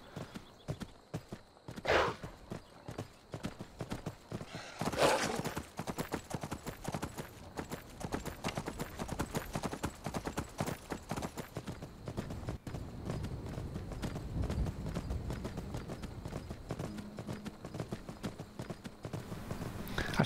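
Wild horse hooves clop in a fast continuous rhythm in Skyrim, with a high whinny early on, set against a steady background of game ambience.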